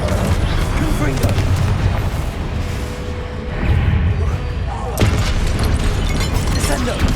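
Spell explosions from combat in the Hogwarts Legacy video game, loud booming blasts in dense succession with a fresh burst near the end, over continuous game noise.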